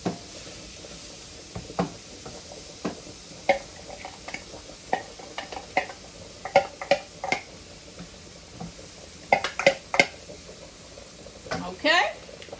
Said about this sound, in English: Our butter. And our olive oil. And we're going to let these saute and soften.